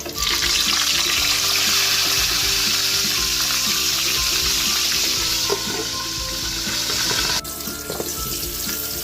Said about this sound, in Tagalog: Magpiprito na tayo na ating isdang pampano.